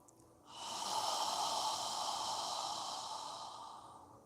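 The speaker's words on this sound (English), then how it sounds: "And as you're exhaling through your mouth, imagine that you're fogging a mirror with your breath." A long, steady breath pushed out through an open mouth as if fogging a mirror, a soft airy hiss that swells quickly, holds for several seconds and slowly fades, close and alone with no talk.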